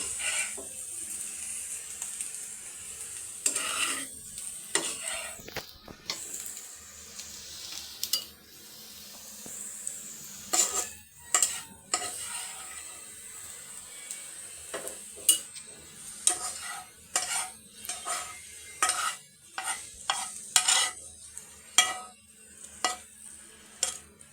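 Bitter gourd and potato being stir-fried in a pan: a soft continuous sizzle broken by frequent scraping, clattering strokes of a spatula, close and irregular, with no voices.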